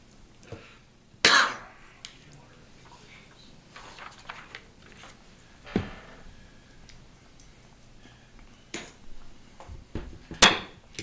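A few sharp coughs come at scattered moments amid quiet room noise at a meeting, with faint clicks and taps in between.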